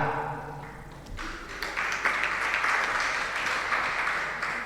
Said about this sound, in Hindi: ताली किस बात की है?